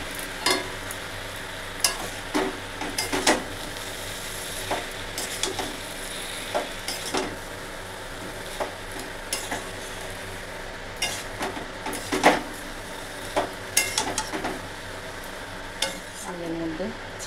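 Pumpkin and malabar spinach sizzle and fry in a pan for a Bengali prawn dish, while a utensil stirs them in repeated scraping, clattering strokes over a steady low hiss.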